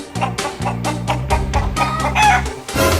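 A cartoon rooster crows and clucks in a run of loud, close, choppy calls, each burst clipped short and closely spaced over a steady musical backing.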